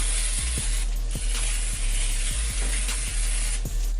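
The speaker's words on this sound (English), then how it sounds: "I'm going to spray the pan with olive oil." Olive oil sprayed onto a pan: a continuous loud hiss with a few short, sharp knocks scattered through it, close by.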